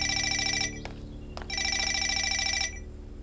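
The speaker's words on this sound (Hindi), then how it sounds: "फोन बज रहा है, जरा देखो कौन है।" A telephone rings loudly in two long electronic trilling bursts separated by a short pause, with a couple of faint clicks between them.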